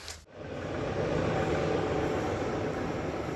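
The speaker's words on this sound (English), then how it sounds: "Okay, now the train is passed." A train rolls past on a railway line beside a park path in Stuttgart, a steady broadband rumble swelling in after a brief dip and holding loud and close for several seconds, with no talk over it.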